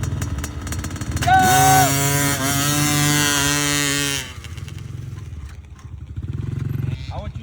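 Dirt bike launching from a practice start gate, its engine rising sharply to a loud, strained rev for a few seconds before easing off, with an adult voice coaching nearby.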